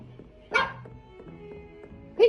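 A dog barks twice indoors, a loud close bark followed by another sharp bark about two seconds later, with faint room noise between.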